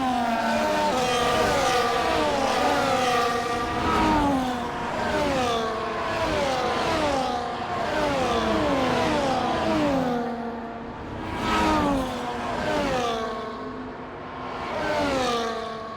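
Several Formula 1 cars in a racing video game run the formation lap at the Mexico circuit, engines droning loudly and continuously as they rise and fall in pitch through gear changes, with no talk over them.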